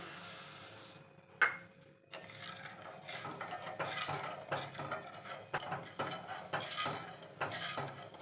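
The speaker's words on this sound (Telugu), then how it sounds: "షుగర్ అంతా కరిగిపోయే వరకు ఇలా అంటూ కలుపుకోవాలి" A spoon scrapes and clinks around a thick pot of sugar, corn flour and water, a brisk repeated stirring with sharp metallic knocks throughout and one louder clatter near the start.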